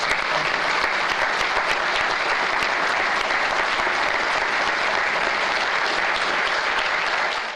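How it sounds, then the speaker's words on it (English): Sustained applause from a large crowd at a groundbreaking ceremony, dense and even throughout, fading slightly at the very end. "join me in a round of applause for their contribution"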